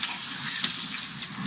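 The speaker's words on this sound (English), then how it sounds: "The rice is boiling." Rice boiling in a pot of water over an open cooking fire, a steady bubbling hiss with a crackling, sizzling texture throughout.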